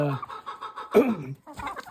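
Brown Red hens cluck in a farmyard, a quick run of short clucks broken by one louder squawking call, then more clucking, close and clear.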